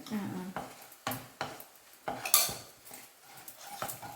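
Spice powders for fish molee being stirred and roasted in a pan, a series of sharp spoon scrapes and clanks against the metal every half second or so over a faint sizzle, close by with no talk.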